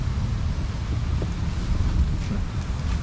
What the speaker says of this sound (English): It's a sunny day, but it's really windy